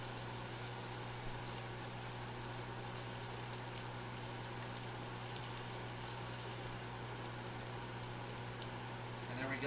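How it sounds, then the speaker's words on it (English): Pork searing in a hot pot for pulled pork, giving a steady, even sizzle with a low hum underneath and no talking, unchanged throughout. "Got a nice little sear going."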